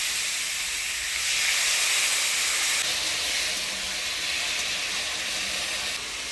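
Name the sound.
a little water poured into a hot pan, hissing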